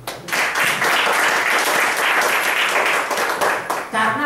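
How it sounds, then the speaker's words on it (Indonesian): Audience at a sales seminar in Indonesia breaks into loud, sustained applause, dense clapping filling several seconds before tapering off at the end. "Tepuk tangan dong."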